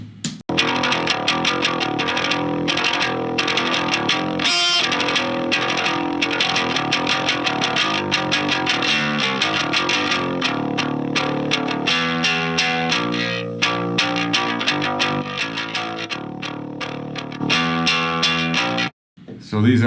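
Bass guitar played through a Clank amp plugin, a gritty distorted tone in a steady continuous line for about twenty seconds, loud and close with only a brief dropout near the end.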